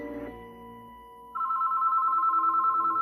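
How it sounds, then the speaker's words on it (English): A telephone inside a house rings, starting with a short knock and then a steady, sustained electronic trill that carries on evenly, moderately loud with nothing else over it. "a phone rang inside of a house pretty far away from the hospital"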